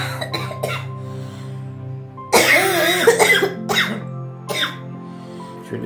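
A person with a bad cold coughs, a few sharp close coughs followed by a harsh extended fit and a couple more coughs, over a faint steady hum, no speech.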